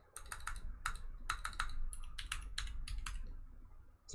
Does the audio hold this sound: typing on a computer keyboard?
yes